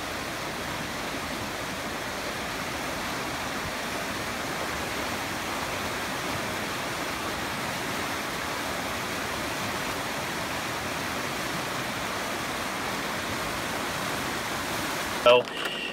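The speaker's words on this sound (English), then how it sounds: "Passage Creek is muddy and it looks like the Willy Wonka River" Fast, muddy Passage Creek rushes in a steady broadband roar of churning water that holds level throughout, with a brief knock near the very end.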